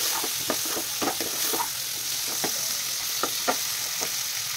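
Chopped capsicum and onion fry in a hot pan with a steady sizzle, broken by scattered scrapes and clacks of stirring, close and moderately loud, with no talking.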